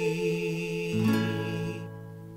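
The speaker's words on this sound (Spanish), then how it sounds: "Mi guitarra suena" Sustained guitar chords ring out, shifting once to a new chord before fading into a gentle decay.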